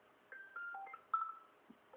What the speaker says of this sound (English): tell me in the comments if these are the actual iOS 7 ringtones